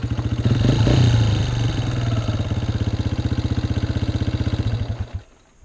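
A motorcycle engine firing and running with the clutch held in after the kickstarter failed, a loud close steady chugging idle with rapid even pulses that cuts off abruptly near the end.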